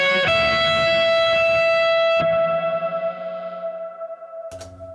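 Sustained electric guitar chords through a bright reverb setting ring out with a shimmering reverb tail, a second strum decaying slowly before a final short strum near the end.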